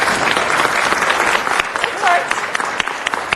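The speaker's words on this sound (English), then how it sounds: "If we could give her a round of applause for Mediation Day in Los Angeles." Applause breaks out in a city council chamber in Los Angeles, a dense, steady wash of clapping from a roomful of people that carries through to the end, with some talking mixed underneath.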